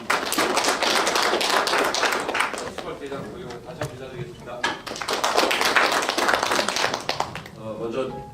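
Clapping from the audience at a graduation ceremony comes in uneven bursts of sharp claps, swelling, dipping midway and rising again, with a voice talking over parts of it.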